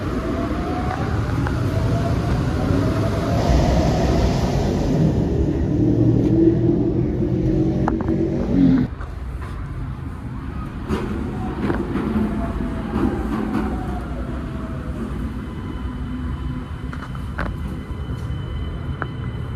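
A driverless trackless tire train runs in Japan, giving a continuous low rumble and road roar that eases slightly partway through, heard from on board without talk.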